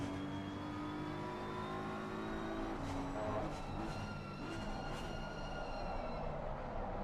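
Race cars at the Suzuka endurance race drone past in a continuous engine roar, with a steady whine that drops in pitch as one passes and other cars running alongside at a distance.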